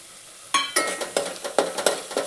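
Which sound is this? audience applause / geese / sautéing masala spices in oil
sautéing masala spices in oil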